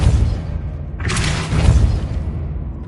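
A Depulso spell striking its target in the Hogwarts Legacy video game: a sudden loud burst of whooshing impact over a low, rumbling game soundtrack, fading after about a second.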